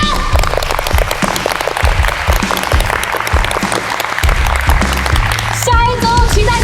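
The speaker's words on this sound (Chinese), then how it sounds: "掌声！" A studio audience on a cooking competition show claps in dense, lively applause, with a brief tonal musical sting rising near the end.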